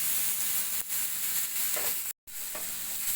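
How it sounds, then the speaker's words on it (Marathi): Onion and tomato with star anise, cloves and cinnamon sautéing in a pan, a steady soft sizzle with faint stirring scrapes, broken by a brief gap of silence near the end, no voices. "आपला टमॅटो थोडासा मऊ होईपर्यंत आपण याला परतून घेऊया."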